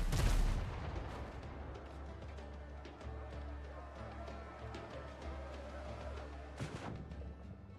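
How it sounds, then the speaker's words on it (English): Cannon barrage in a pirate video game: a heavy boom opens, followed by a rumbling stretch of scattered gunfire and thuds, with another sharp blast near the end, all moderately distant. "Here's hoping my cannon barrage killed all these people."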